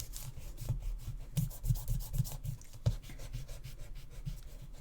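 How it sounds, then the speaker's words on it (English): Die-cut paper card pieces are rubbed out by hand, giving a close, continuous scratchy rubbing with uneven rhythmic strokes and a couple of sharper scuffs, with no one speaking. "So now all we need to do is rub out all our pieces."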